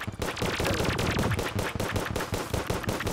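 An automatic weapon in Terraria fires continuously while the button is held, producing a steady, loud, rapid stream of shots with no talk over it.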